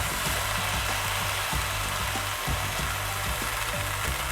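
Sliced tomatoes fry in a pan on low heat, a dense, even hiss of sizzling oil with faint bubbling pops underneath, close and continuous throughout with no talking.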